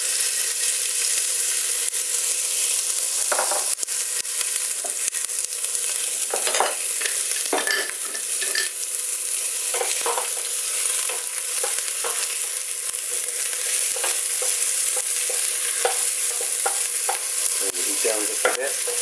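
Onions and garlic fry in a pan for sopa azteca, a steady broadband sizzle running throughout with repeated scraping and stirring strokes of a utensil close by, no talk.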